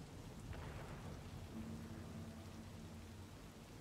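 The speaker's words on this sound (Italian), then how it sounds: "Ma io sono in tutta la pioggia?" Rain and thunder in the video game Cyberpunk 2077 Phantom Liberty: a steady, dense hiss of rainfall with a low rolling rumble of thunder underneath, heard alone without speech.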